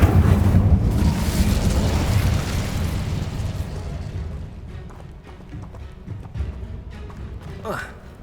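A fiery Incendio spell cast in Hogwarts Legacy bursts with a loud, rumbling whoosh that gradually fades over several seconds, ending with a brief faint crackle.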